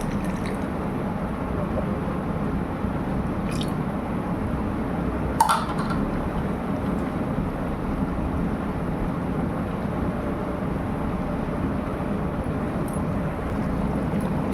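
Water pours steadily into a pot of mushroom biryani, a full rushing wash that holds for about fifteen seconds with a single small clink partway through.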